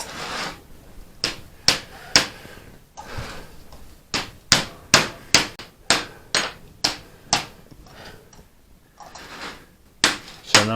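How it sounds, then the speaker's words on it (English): A hammer strikes a copper vase on a die over and over, about twenty sharp, ringing blows in uneven bursts with short pauses, close and clear. "So now I'll do my final circumferential hammering"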